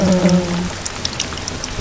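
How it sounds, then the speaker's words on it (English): Water pours onto a burning building, a short burst of splashing and spattering drops over a faint low hum that fades early, with no talking. "Pouring water."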